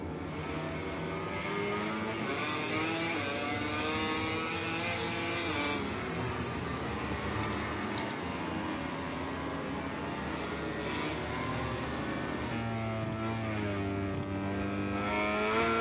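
Racing motorcycle engine from the game MotoGP 21 at the Portugal round, accelerating hard through a turn, a continuous loud, near whine with rising and shifting pitch as the bike revs up, steady throughout with no voices.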